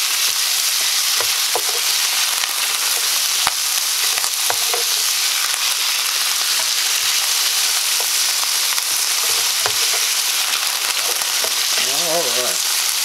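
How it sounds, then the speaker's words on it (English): Cooked green beans sizzle and fry in butter and olive oil in a pan, with steady hissing and occasional scraping stirs throughout, close and fairly loud, no talk. "we're just going to get them coated with the butter and olive oil."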